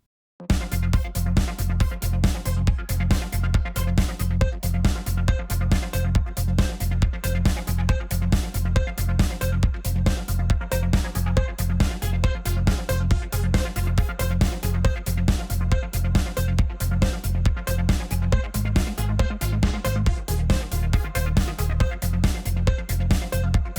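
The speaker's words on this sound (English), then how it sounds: "this is an auto pan, and that will sound like this." A synth sound with an auto pan effect pulses in a fast, even rhythm for a long stretch, its steady throb shifting gently in tone.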